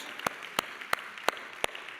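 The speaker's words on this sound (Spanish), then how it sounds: "Dale un fuerte aplauso a Él" Sharp, evenly spaced claps ring out in a church service, six crisp hits in a steady rhythm at a modest level over a quiet room.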